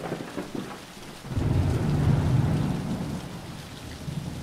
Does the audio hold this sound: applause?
no